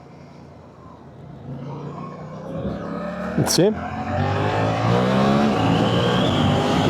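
Suzuki GSX-8S parallel twin motorcycle engine accelerating, rising in pitch through quick-shifted gears with a sharp shift blip midway, heard from the rider's position alongside wind and a brief spoken remark.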